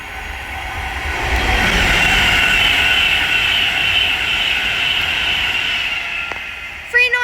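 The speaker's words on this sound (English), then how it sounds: "right there is a an Avanti West Coast Class 390 Pendolino, working service from London Euston to Manchester Piccadilly" Avanti West Coast Class 390 Pendolino on the West Coast Main Line at Bletchley, running from London Euston to Manchester Piccadilly, sweeping past loud and close with a rising then fading rush and a tonal whine, a few short clicks at the end.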